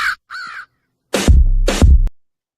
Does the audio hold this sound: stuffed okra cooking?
no